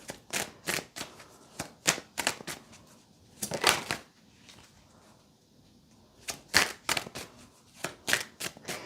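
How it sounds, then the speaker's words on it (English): Tarot cards being reshuffled by hand, with quick bursts of crisp riffling and snapping in two clusters separated by a short pause, close and fairly loud with no talking. "I'm just going to reshuffle."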